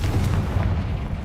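Confringo spell explosion in the Hogwarts Legacy video game, a heavy booming blast with a deep rumbling tail, loud and sustained.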